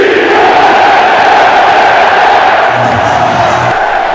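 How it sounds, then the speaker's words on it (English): A deafening stadium crowd roars and cheers at a New York Jets football game, one continuous loud wall of voices that never lets up. "With a deafening crowd at their back"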